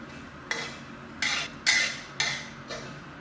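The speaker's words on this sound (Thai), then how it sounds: "ใช้ไฟอ่อนนะครับ คั่วเรื่อยๆ นะครับ" Sliced galangal and lemongrass are stir-roasted in a pan over low heat, with four distinct scraping strokes of a spatula against the pan, close and evenly paced, no talking.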